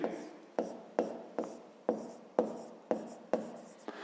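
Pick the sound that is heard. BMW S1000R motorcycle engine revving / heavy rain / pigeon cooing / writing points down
writing points down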